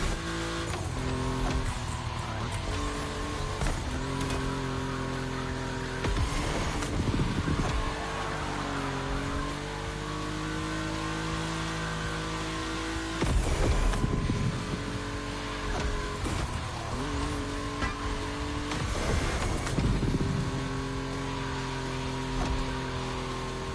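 Volkswagen race cars in a racing video game roar along a track with steady engine drone, rising and falling pitch as they rev and shift, with louder surges near 6, 13 and 19 seconds.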